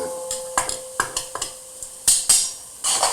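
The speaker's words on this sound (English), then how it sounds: "I just threw some garlic in, by the way, to get it quick sauté" Garlic sautéing in olive oil in a pan: a faint sizzle under irregular scraping and clinking of a utensil against the pan, with a few louder knocks and swishes close by.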